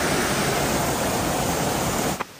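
The waterfall at Seven Falls in Sultan Kudarat roars as a loud, constant wash of rushing water that cuts off suddenly at the end.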